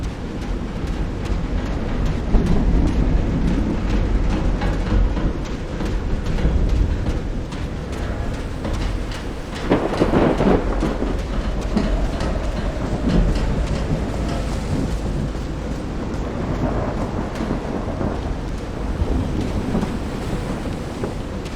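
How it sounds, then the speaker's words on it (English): Thunderstorm in the Call of the Sea video game: steady rain and wind-buffeted roar with rolling thunder swelling around the middle and again near the end, loud and continuous, no talk. "the noise of thunder"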